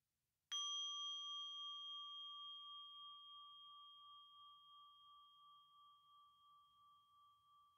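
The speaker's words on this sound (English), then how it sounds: "I will now ring the bell one last time." A meditation bell is struck once and rings out alone, a clear sustained tone that slowly fades over several seconds in a quiet room.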